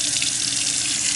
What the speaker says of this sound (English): Stainless steel sink, excellent water pressure in the building.